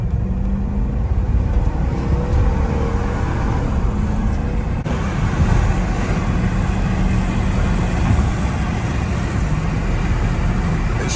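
2011 Jeep Grand Cherokee with a 5.7 Hemi V8 pulling hard from inside the cabin, a deep continuous engine rumble and drone that swells slightly partway through, loud and steady without speech.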